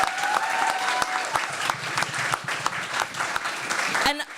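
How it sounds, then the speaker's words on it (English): Audience applause for musicians and filmmakers at a music video showcase, steady dense clapping throughout, fairly loud, with a brief voice near the start before it cuts off at the end. "So just a huge round of applause to everyone who participated."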